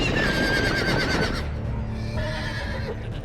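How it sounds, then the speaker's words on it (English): A horse in the Game of Thrones video game whinnies loudly and shrilly up close for over a second, then quieter snorts and scuffling hooves follow. "Horse's feet."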